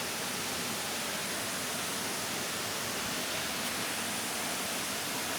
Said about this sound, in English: Waterfall is so beautiful.